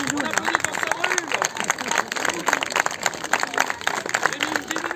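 A group of people clapping in irregular bursts, mixed with chatter and babble of voices nearby, uneven and lively rather than a uniform ovation.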